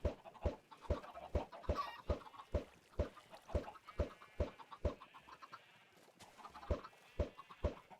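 Chickens in the video game Minecraft cluck in a rapid, steady run of sharp repeated calls, fairly close and clear, with no talking over them.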